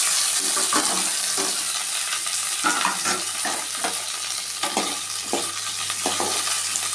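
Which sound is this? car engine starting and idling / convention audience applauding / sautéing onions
sautéing onions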